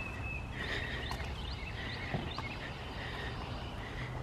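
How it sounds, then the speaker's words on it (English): Faint birds chirping outdoors in spring, a few short repeated tweets over a steady low background hum, with no talking. "Hear the birds chirping,"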